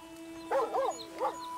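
A dog barks in the Red Dead Redemption video game, giving two short yelping barks close by against a faint, steady game backdrop.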